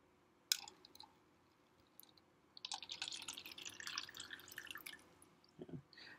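Water pours into a styrofoam cup in a lab, opening with a single drip and then a bright, continuous trickling splash that tails off into a few last drops.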